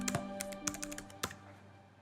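Typing a system password on a computer keyboard, a short burst of about half a dozen crisp key taps, close and alone in a quiet room.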